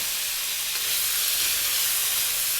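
Potatoes and carrots cook in a pan for goat kaldereta, producing a loud, steady hiss and sizzle that runs without a break close to the mic.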